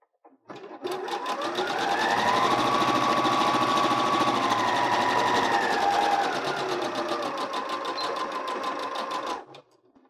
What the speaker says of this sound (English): So I'm just going to sew along the fold of this filter liner.